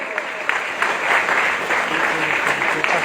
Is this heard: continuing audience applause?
yes